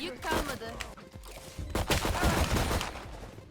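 Gunfire in the tactical shooter game Valorant: bursts of rapid shots and a fusillade of close, sharp cracks, loud and irregular, with a voice speaking over the action.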